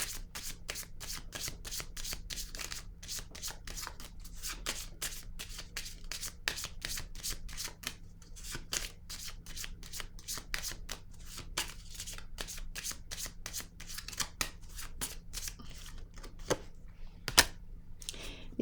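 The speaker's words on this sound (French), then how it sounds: "Là, je vais piger une autre carte ici." Playing cards being handled and shuffled from a deck, a long run of quick, crisp flicking and riffling taps, close and steady, with a sharper snap near the end.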